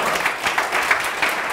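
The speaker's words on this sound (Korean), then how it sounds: "박수 좀." Brief, dense burst of audience applause at a programming conference talk, many hands clapping together in a steady wash with no voices.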